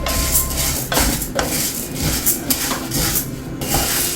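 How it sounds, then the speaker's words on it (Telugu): Urad dal being stirred and roasted in a pan over a medium flame, with steady close scraping and rubbing of a spoon against the metal and occasional light clinks, continuous and without speech. "అందుకని మీడియం ఫ్లేమ్లో పెట్టుకొని కలుపుకుంటూనే దోరగా వేపుకోవాలి."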